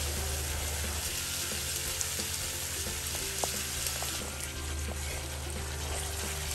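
Spices for a stuffed pointed gourd (potol) dolma with keema fry in a hot pan, a steady close sizzle with faint scraping clicks of stirring throughout.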